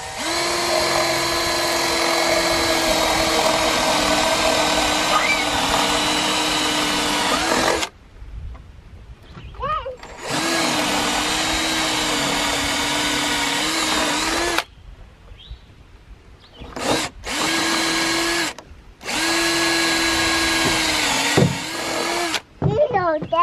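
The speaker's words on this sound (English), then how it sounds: "I've got a half inch wood bit here. I'm going to try and get straight through to the other corner." A drill with a half-inch wood bit bores through timber on a playhouse platform build, running in several loud sustained bursts with short pauses between, the motor whining steadily under load.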